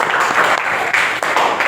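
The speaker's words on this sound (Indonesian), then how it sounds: "beri tepuk tangan semuanya" A classroom group applauds after a student finishes presenting a biography text, steady dense clapping filling the whole short stretch, close and fairly loud with no pauses.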